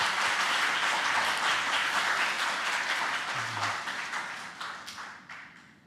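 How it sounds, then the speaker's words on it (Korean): A church congregation at an afternoon worship service applauding the kitchen volunteer team, a full, sustained round of clapping that gradually fades away. "우리 식당 팀을 위해서 박수 한번"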